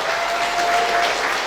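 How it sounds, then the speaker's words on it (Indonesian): Dense, continuous applause for the organizing committee at the 66th Dies Natalis of the USU Faculty of Agriculture, a steady wash of many hands clapping together with no voices. "Tepuk tangan untuk panitia."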